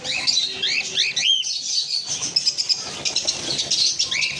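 Many pet birds, including lutino cockatiels, chirp and whistle at once, a busy chorus of high, rising and falling calls, close and continuous.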